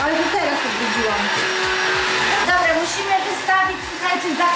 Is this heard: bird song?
no